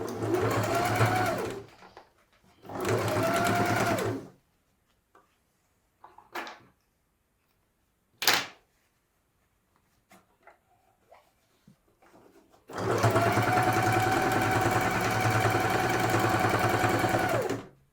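A sewing machine stitches the overlap on a frilly pillowcase: two short bursts of steady whirring, a quiet stretch with small clicks and knocks, then a long continuous run at the end, close and clear.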